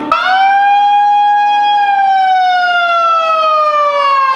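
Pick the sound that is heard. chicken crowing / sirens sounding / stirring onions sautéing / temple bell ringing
sirens sounding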